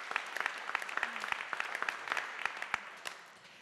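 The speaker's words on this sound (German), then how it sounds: "bitte einen Applaus für Frau Dr. Grün." A room full of people claps for a few seconds, the applause steady and then tapering off slightly at the end.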